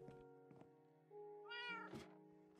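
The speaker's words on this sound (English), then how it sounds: "there's the kitty cat" A cat in the Minecraft video game meows a few times, close and clear, over a soft steady game background with a dull knock near the end.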